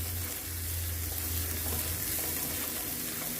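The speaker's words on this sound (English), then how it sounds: "But continue to stir" Onion, thyme and garlic fry on low heat in a pan for a Jamaican-style curry shrimp pasta while being stirred, making a close, continuous sizzle with soft scraping from the spoon and no talking.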